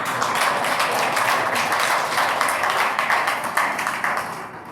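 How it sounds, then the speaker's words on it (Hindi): Audience applause at a 75th Amrit Mahotsav ceremony, a dense, steady clapping crowd filling the room for several seconds without pause, close and fairly loud. "की तालियां जोरदार बजती रहे।"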